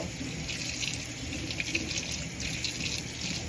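Fresh strawberries are rinsed under a running kitchen tap, a steady close hiss and splash of water pouring into the sink, with no talking.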